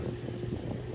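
A wrecked Nissan 350Z engine, about a quart low on oil, idles steadily with a low, even rumble, faint and unchanging.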